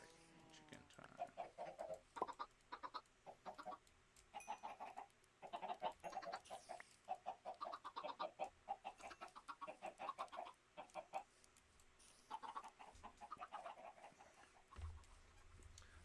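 Chickens cluck repeatedly in the video game Minecraft, a steady run of short bursts throughout, with a person talking over them.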